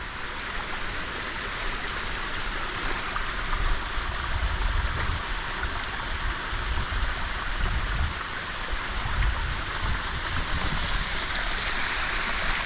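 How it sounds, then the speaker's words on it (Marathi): A water stream flows steadily inside an ancient 2,200-year-old Buddhist rock-cut cave at Bedse in Maval, Maharashtra, India, producing a continuous broadband rush with low rumbling surges, moderately loud and close, with no voices. "ते जे पाण्याचे प्रवाह मी तुम्हाला बोललो ते मगाशी, ते प्रत्येक लेणीत असतातच."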